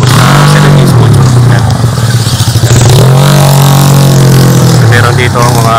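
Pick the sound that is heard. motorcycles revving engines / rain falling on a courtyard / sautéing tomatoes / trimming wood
motorcycles revving engines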